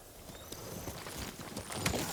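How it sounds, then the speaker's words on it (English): Horse hooves clopping in the video game Ghost of Tsushima, an uneven run of soft hoof beats on the ground that grows louder toward the end, with faint ambient tones behind. "Horse!"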